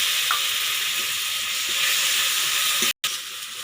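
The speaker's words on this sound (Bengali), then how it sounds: "এবারে দিয়ে দিচ্ছি পেঁয়াজ বাটা এবারে টমেটো দিয়ে দিচ্ছি" Onion paste and tomato go into a hot pan for a village-style prawn and spinach dish, making a continuous loud sizzle with faint stirring scrapes, briefly cut off near the end, with no voices.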